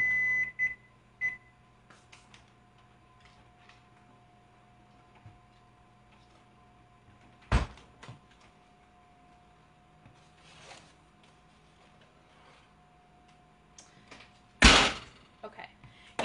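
Candy batch in an oven: a quiet kitchen with a faint steady timer tone, a few soft clicks, then two sharp bangs of the oven door opening and closing, with a person speaking nearby.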